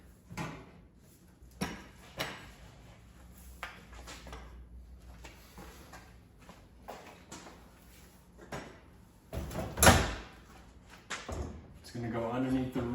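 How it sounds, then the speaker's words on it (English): A door for a Honda Talon 4-seat Vault enclosure being handled, fitted and slid into place, with scattered knocks, clunks and scraping bumps at irregular intervals and a sharp rattling clatter near the end. "Now I'm gonna grab my door and put it up there."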